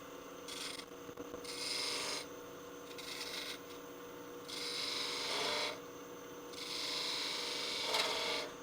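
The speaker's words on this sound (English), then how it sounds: "let's make a little V groove with a skew for what that ball is going to look like" A skew chisel cuts a V groove into wood spinning on a lathe, giving repeated raspy scraping bursts of a few seconds each, separated by quieter spinning, close up and with no talking.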